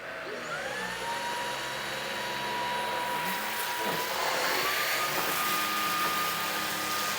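A Eureka ReactiSense 440 cordless stick vacuum runs steadily, picking up crumbled cereal from wood floor and carpet, a loud, close, continuous motor whine with a pitch shift partway through.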